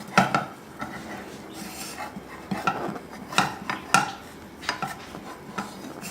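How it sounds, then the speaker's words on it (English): A metal spatula scrapes and taps in a pan under a fried sunny side up egg, making a series of irregular light clinks and scrapes, close and clear, with no talking. "you just want to get under there with your spatula"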